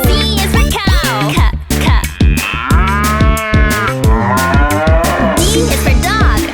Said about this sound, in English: C is for cow. Moo.